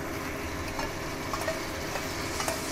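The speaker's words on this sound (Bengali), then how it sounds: "এবার আমি মশলাটা কষে নিয়ে এর মধ্যে আমি টক দই, ফেটানো টক দই এর মধ্যে দিয়ে দিলাম।" Fried spice paste mixed with beaten sour yogurt is stirred in a pan for a potato dum, a steady hiss of frying with soft, irregular scraping, close and continuous.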